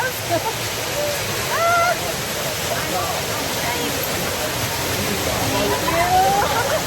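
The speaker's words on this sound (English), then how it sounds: "I have someone to help steer me out of the waterfalls" Waterfall splashing and rushing water along a lazy river at a resort in Ko Olina, a steady wash of water noise that runs throughout while people talk and exclaim over it.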